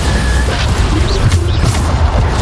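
A Bombarda spell explosion in Hogwarts Legacy, heard as a loud, low booming blast that rumbles continuously, with a few faint high chirps from the game layered on top.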